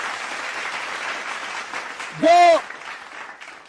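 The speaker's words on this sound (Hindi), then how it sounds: "एक बार जोरदार ताली से स्वागत" An audience applauds to welcome a schoolgirl honoured as a Rajasthan topper at an institute ceremony, a brief loud burst of clapping following an announcer's amplified talk.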